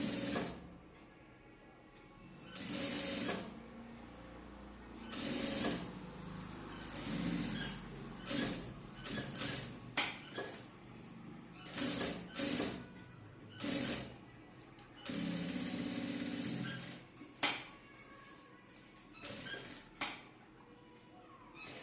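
A sewing machine runs in repeated short bursts, stitching an edge seam along chudithar lining, its close mechanical whir stopping and starting with small clinks and handling noises between runs.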